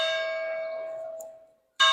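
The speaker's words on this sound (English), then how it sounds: "Oh, look, there's the bell tower, and it actually works. It's 4 o'clock." A church tower bell in a Tuscan town strikes the hour at four o'clock, one loud clear ringing stroke fading slowly before a second stroke begins, heard alone without talk.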